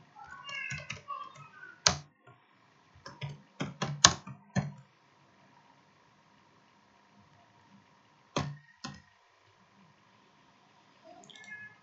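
Typing on a computer keyboard while entering a company name into an online CV form, heard as scattered short bursts of clicks with pauses between them, close and fairly quiet, with some faint background noise.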